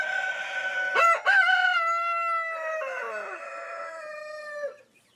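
A rooster crows loudly and close in one long drawn-out call, with a short clucking break near the start, then the call fades out.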